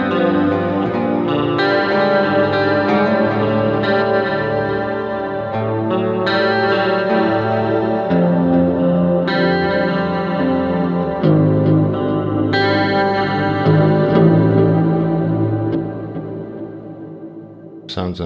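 An electric guitar played through a BOSS GT-1000 with octave and modulation effects, a unison voice plus one an octave higher, strummed chords and melodic phrases with a shimmering chorus-like wash, steady and close for nearly twenty seconds.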